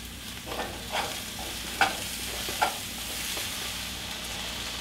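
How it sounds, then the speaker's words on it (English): Large chunks of zucchini sizzle softly in a pan while a utensil stirs them, giving a few distinct scraping knocks over a low, steady frying hiss, close and without speech. "You just wanna get it in the pan, stir it around, and then let it cook until it's really nice and soft."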